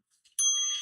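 A bell is rung once, giving a bright, sharp ring that sustains clearly after a couple of faint taps, with no voices.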